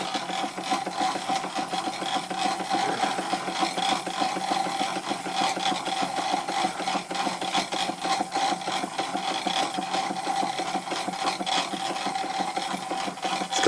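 A Stuart Victorian model steam mill engine runs down after its gas supply is shut off, giving a steady, close, rapid rasping chuff that holds even throughout with no talk.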